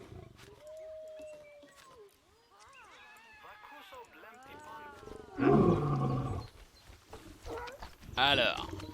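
A lion in the zoo-building game Planet Zoo growls and roars in rising, rumbling bursts, loudest near the middle and end, with someone talking intermittently over the game sounds.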